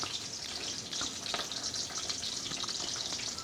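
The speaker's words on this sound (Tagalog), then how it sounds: "Habang nagpiprito po tayo" Food frying in a pan, with a steady crackling sizzle holding throughout at moderate level, and a few brief scraping or clinking touches; no speech.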